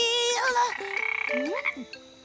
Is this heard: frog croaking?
yes